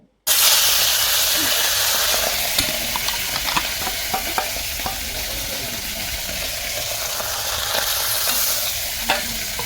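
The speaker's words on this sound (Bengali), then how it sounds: "মাছগুলোকে লবণ হলুদ মাখিয়ে এবার আমি ভেজে নেবো" Fish pieces rubbed with salt and turmeric hit hot oil and sizzle loudly. After a brief silence, a steady, close hiss of frying carries on throughout, with occasional crackles and pops.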